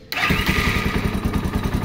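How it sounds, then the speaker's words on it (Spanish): A Yamaha XT 225 motorcycle fitted with a Kymco Agility 125 CDI starts instantly, catching abruptly and then settling into a close, steady, rhythmic idle. "vamos a mostrarles cómo queda encendiendo esta motocicleta"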